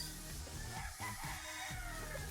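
A 5K sweater gamefowl rooster at a game farm crows loud and near in one sustained call, alone with no talk.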